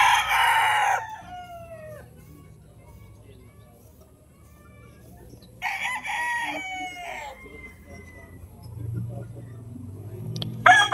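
Gamefowl roosters on a game farm crow several times, loud bursts that fall in pitch, with pauses and a later crow near the end; someone talks quietly underneath at times.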